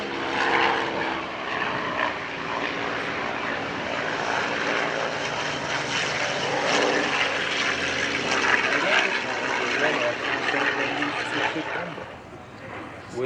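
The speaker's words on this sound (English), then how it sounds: "a little bit of Mark 1 Spitfire in the sky" A Mark 1 Spitfire flies overhead at the Duxford Flying Legends airshow, a steady, loud propeller engine drone that holds for the whole stretch and fades slightly at the end, with a commentator talking over it.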